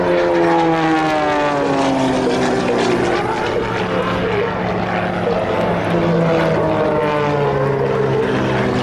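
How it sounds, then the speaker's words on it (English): Extra 300 aerobatic propeller plane at a military air show at Quonset ANGB, its engine droning loud and steady throughout a torque roll, with shifting harmonic pitch from the propeller. "Look as Eric shows the incredible power and precision of the extra 300 during the torque roll"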